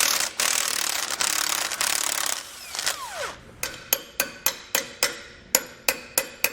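A ratchet turns the 21mm bolt on a shock absorber's lower mount while Air Lift LoadLifter 5000 Ultimate helper springs are installed. Steady broadband mechanical noise comes first, then a close, evenly spaced series of sharp clicks.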